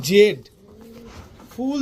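A pair of American Lakka pigeons, tails held upright and feet fully feathered, give close, resonant coos: a rolling call, a soft sustained hum, then another coo starting.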